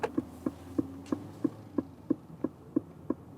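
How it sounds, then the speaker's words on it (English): Turn indicator of an Aston Martin DBX performance SUV, an evenly paced series of about eleven soft ticks heard close inside the cabin over a low hum. "Aston Martin DBX with a peculiar turning indicator sound, really unique, sounds strange somewhat"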